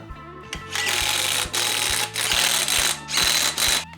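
A hand ratchet tightens bolts during a small block V8 install in a Dakota, its loud, close pawl clicks running in four bursts separated by short pauses.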